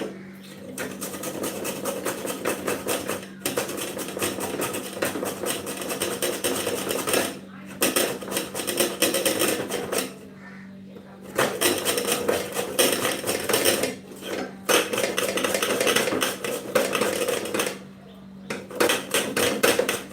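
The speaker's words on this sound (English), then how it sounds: "So let me start by grating our ginger" Fresh ginger grated against a metal grater for cinnamon tea, a steady loud run of fast rasping strokes in bursts with brief pauses.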